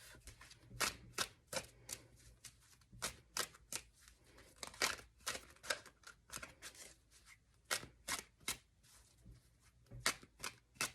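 Tarot cards being shuffled over and over, crisp riffling snaps and flutters in an irregular rhythm, close up, with no talking.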